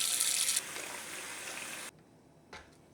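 Water pours steadily into a pot being measured out, two and a half quarts for boiling in a home kitchen, a bright continuous stream that cuts off abruptly partway through, followed by a faint short splash.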